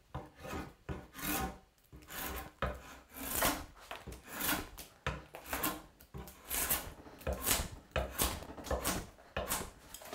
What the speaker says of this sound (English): we're going to shape the curve, starting with the draw knife